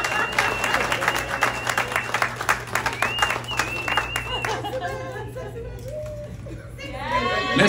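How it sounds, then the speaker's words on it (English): Audience applause at a South Florida welcome event for a reggae artist, steady clapping mixed with crowd chatter and a voice over a PA, fading out before a speaker talks again. "let's give them a big round of applause"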